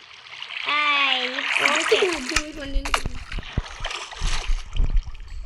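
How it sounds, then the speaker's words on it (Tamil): Splashing water from pouring in the Craftman building game, bursts of watery splatter that follow a child's speech and keep going in uneven, moderately loud spurts. "தண்ணி அதுக்குள்ளே ஊற்றலாம்"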